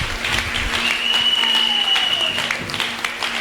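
A church congregation applauds the Ndong couple, with dense, steady clapping from a sizable crowd, a few cheers and a sustained whistle mixed in.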